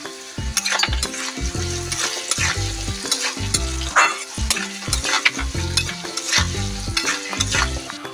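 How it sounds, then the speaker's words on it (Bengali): Potatoes fry in hot oil with salt and turmeric for a Bengali jackfruit curry, giving a steady close sizzle broken by repeated stirring scrapes, with a melodic tune playing underneath and no talking. "তেলেই আলুটাকে ভেজে লাল লাল করে নেব। এর মধ্যে একটু নুন অ্যাড করে দেবো আর একটু হলুদ অ্যাড করে দেবো।"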